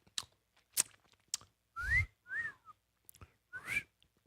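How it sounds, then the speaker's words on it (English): A human two-note wolf whistle, rising then falling, repeated a few times with short gaps, close and fairly clear, with some clicks and breaths between. "I've actually never heard a real life wolf whistle."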